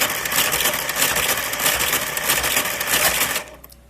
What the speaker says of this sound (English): we're moving across the working needles behind them